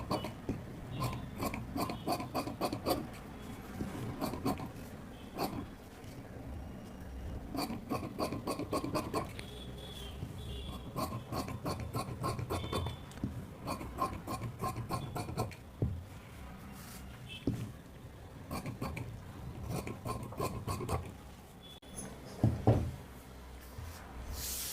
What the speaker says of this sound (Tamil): நம்ம லைன் போட்ட இடத்துல கட் பண்ணிக்கலாம்.